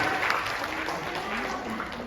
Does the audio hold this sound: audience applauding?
yes